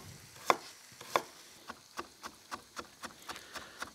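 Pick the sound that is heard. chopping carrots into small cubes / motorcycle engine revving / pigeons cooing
chopping carrots into small cubes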